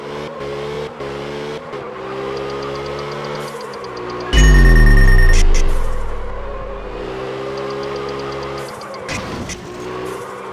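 Car engine in the drifting game Absolute Drift, revving and droning with shifting pitch, sudden loud bursts and a heavy low thud midway, plus brief electronic tones.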